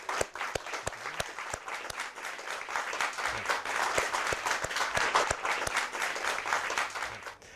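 Applause from the audience at a school mathematics championship, many hands clapping steadily for several seconds, full and close, swelling in the middle before fading at the end.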